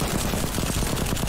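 Rapid SMG fire in the zombie train game Pandemic Express, a dense, loud burst of fast repeated shots filling the whole short moment without pause.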